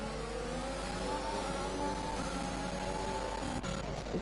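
Several racing cars in the Singapore GP sim racing game run at full speed, their engines a steady, dense mid-pitched drone with layered whines throughout, loud and continuous with no talk.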